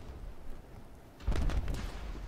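A low, rumbling burst of video game explosions in Battlefield 3 erupts after a quieter stretch, booming and crackling briefly before fading back down.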